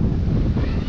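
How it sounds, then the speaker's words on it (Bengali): Wind buffets a microphone outdoors near water at a market by a river ghat, a loud, continuous low rumble and gusty roar throughout a short moment. "ওয়াও, বাতাসও।"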